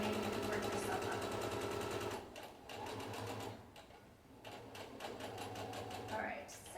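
A sewing machine stitches a fabric face mask in a fast, steady mechanical whir, running continuously with two brief slowdowns before speeding up again, close and fairly quiet.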